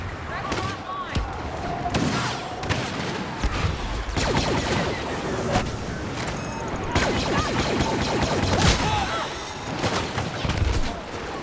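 Rapid bursts of blaster fire crack repeatedly amid booming explosions in the Star Wars: Battlefront beta video game, loud and chaotic throughout, with voices occasionally underneath.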